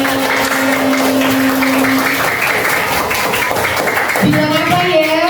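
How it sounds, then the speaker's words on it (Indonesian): Fourth-grade pupils in a classroom applaud their teacher in a brief burst of clapping, while voices speak over and around it. "Tepuk tangan dulu buat Bu Gurunya."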